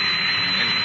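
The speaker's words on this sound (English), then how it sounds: "Turn on the drill with the tread stationary." An underground digger machine's drill running at full speed in a radio drama, heard as a steady, loud, high-pitched mechanical roar with no voices over it.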